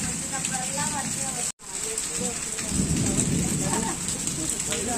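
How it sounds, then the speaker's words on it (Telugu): Rain pouring steadily outdoors, a continuous close hiss of drops with a brief dropout partway through, while someone talks over it. "చూడండి ఎలా వర్షం వస్తుందో"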